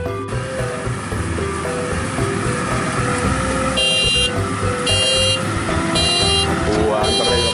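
The horn of a Maxxi Bimo 102 S combine harvester sounds in repeated loud beeping bursts over engine rumble, with people talking nearby.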